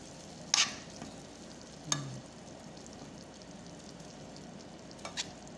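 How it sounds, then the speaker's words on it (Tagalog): Onion and garlic sauté in a pan with a soft, steady sizzle, broken by a few sharp utensil clinks and scrapes against the pan. "Gisa ako ng sibuyas at saka ahos."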